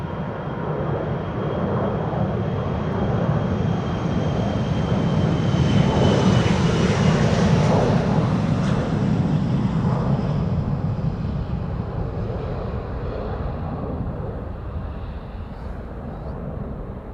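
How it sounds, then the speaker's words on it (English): An Embraer 175 jet takes off from the Polderbaan runway at Amsterdam Schiphol, a loud, steady broadband engine roar that swells toward the middle and eases slightly as it passes, with no talking. "In the meantime, an Embraer 175 here in the foreground,"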